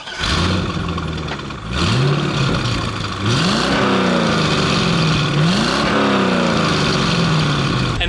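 Loud car engine revving in a tunnel in repeated surges, pitch sweeping up and dropping back several times, with a booming exhaust close by.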